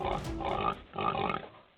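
Pigs grunting and squealing close by in two loud bursts separated by a short pause, with no talk.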